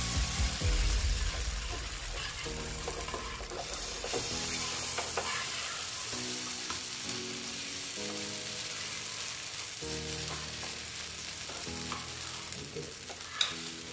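Semolina vegetable paratha batter frying in oil on a pan: a continuous, even sizzle that holds steady throughout, with a faint tonal background underneath and one small clack near the end.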